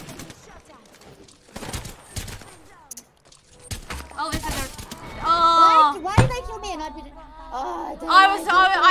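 Havoc rifle gunfire in Apex Legends comes in scattered bursts of sharp shots among other game effects and tonal sounds, while players talk over the action.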